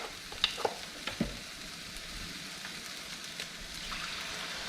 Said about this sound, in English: I'm gonna add 1/2 cup of vegetable broth and let it simmer covered for another 5 minutes